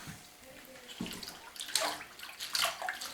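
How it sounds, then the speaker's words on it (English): Poke sallet greens being rinsed under cold water: a steady, hissing wash of running water with soft splashes that swell twice near the end, fairly close and with no one talking. "Just give them a real good cold rinse."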